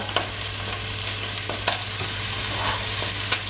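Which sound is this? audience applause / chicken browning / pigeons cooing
chicken browning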